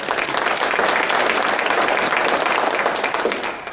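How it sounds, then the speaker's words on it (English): Loud, dense applause from an audience at a detectives and deputies awards event, many hands clapping steadily for the whole stretch with no speech over it. "Give him another round of applause."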